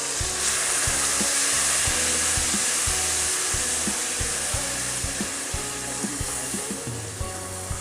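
Masala paste of green chili, onion, tomato, ginger and garlic fries in a pan for arbi leaf patod, a loud continuous sizzle with repeated scraping stirs and knocks of the spoon.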